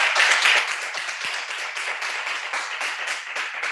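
Children and guests at a school graduation ceremony clap in a dense, sustained round of applause that starts loud and holds steady throughout.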